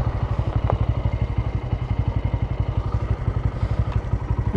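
Off-road motorcycle engine straining on a punishing dirt route, its low pulsing chug steady and close with faint mechanical clatter over it, moderately loud and unbroken.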